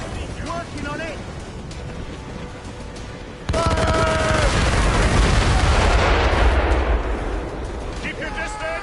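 Ship cannons fire in an Assassin's Creed Rogue naval battle, a heavy booming volley that swells into a loud sustained rumble amid wind and water, with voices shouting over it.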